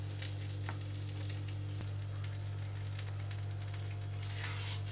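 Mixed flour dosa cooking on a covered pan over a medium flame, a faint, soft sizzle beneath a steady low electrical hum, with a brighter hiss toward the end.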